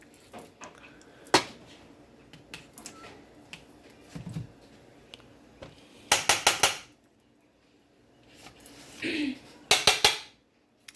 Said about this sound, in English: I'm going to go ahead and stick some butter in the pan